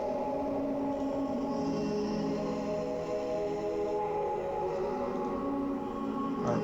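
Heavily compressed, reverb-soaked vocal loop in a cloud rap/vaporwave style, heard before any EQ so its resonant frequencies ring through; a dense, continuous wash with sustained droning tones that stays loud and steady throughout, with no talking.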